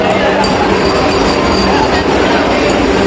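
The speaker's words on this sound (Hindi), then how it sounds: "फाइनली अब आज ही आ गई हमारी भी ट्रेन" A passenger train pulling into a crowded station platform on a Delhi-bound route, with a loud, steady rumble and metallic wheel hiss filling the whole stretch, and a faint crowd murmur underneath.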